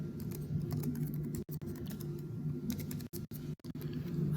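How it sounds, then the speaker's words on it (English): Someone types steadily on a computer keyboard, a quiet, close and continuous patter of key presses with a few brief gaps between bursts. "So I type that in"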